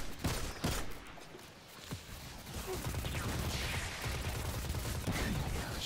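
Rapid bursts of weapon fire in the video game Destiny 2, several sharp cracks early followed by a sustained rattling volley with whooshing effects, loud and close.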